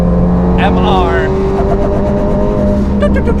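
A Mitsubishi Lancer Evo 8 on the Nürburgring drones loudly with a steady engine tone from inside the car while someone talks over it.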